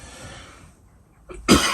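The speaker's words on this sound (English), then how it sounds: "I'm going to cough again" A single sharp cough bursts out near the end after a short breathy pause, close and fairly loud.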